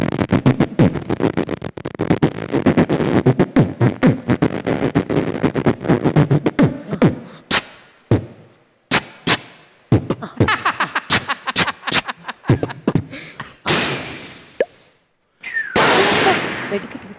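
A performer on a comedy stage vocally mimics a string of firecrackers with rapid sharp popping bursts, irregular bangs and short pauses, mixed with laughter from the audience.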